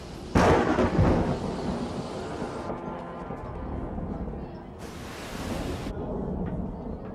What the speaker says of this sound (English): Storm's coming and it's coming fast.